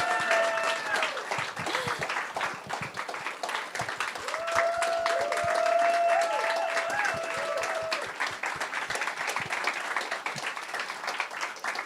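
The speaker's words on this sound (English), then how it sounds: "The applause makes it clear that we're incredibly grateful to Rosemary" Steady audience applause fills the room at a book day gathering, continuous clapping with crowd noise and a few tonal sounds drifting over it.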